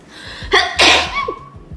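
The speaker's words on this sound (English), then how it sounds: "I have to sneeze." A single loud, close sneeze bursts out after a sharp intake of breath, during dusty indoor repotting of cacti, succulents and hoyas, followed by quiet breathing.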